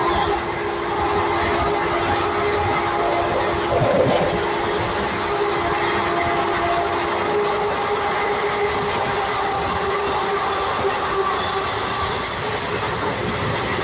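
A passenger train runs past Koduru railway station without stopping, a steady close rumble of wheels on rail with faint clickety-clack throughout, and no voices.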